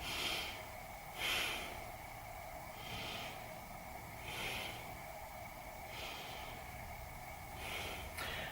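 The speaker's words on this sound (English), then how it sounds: "Take 3 breaths here." Slow, rhythmic yoga breaths drawn during a held standing pose, soft airy inhales and exhales repeating about every one and a half seconds, quiet and close with no talking.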